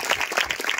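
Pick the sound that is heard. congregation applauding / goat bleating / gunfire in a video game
congregation applauding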